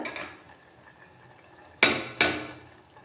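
Boiled field beans tipped into a pan of amaranth leaves, giving two sharp clattering impacts close together, each followed by a short hiss of settling, over a quiet kitchen background.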